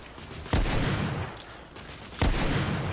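Two loud, booming pistol shots ring out about a second and a half apart in the shooter video game The Order: 1886, each with a sharp attack and a rumbling tail over steady background noise.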